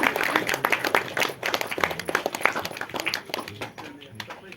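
Audience at a premiere show function claps for an honoured guest, a dense burst of many hands applauding nearby that gradually thins out.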